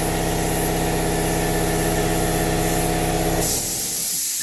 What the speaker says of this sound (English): hopefully you'll be able to hear me over the air compressor